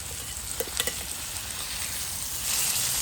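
Chicken cafreal sizzles gently in a pan over a low flame, a steady soft frying hiss with a few small pops and clicks early on, no talking.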